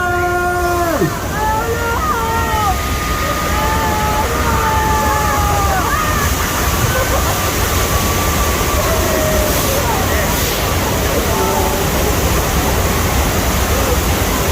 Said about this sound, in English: On your right hand side, more water!